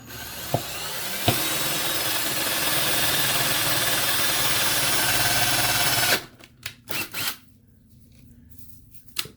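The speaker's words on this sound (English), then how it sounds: "I'm just going to drill out our bottom holes real fast" A drill whines loudly and continuously for about six seconds boring holes in PVC pipe, then stops, leaving a few clicks and knocks of handling.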